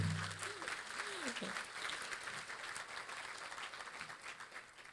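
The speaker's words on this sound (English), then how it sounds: "Yes, clap for them, please." An audience claps for support staff at the First Call gala in 2017, a continuous wash of applause throughout, fairly quiet and distant, with faint voices underneath.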